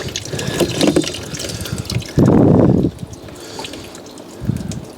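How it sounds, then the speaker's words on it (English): Washer fluid drains off the washer pump of a Fiat 500, a close trickling and dripping of liquid with one brief louder gush of pouring in the middle, without speech. "I've just poured washer fluid all over the pump now. I'll let that drain down anyway."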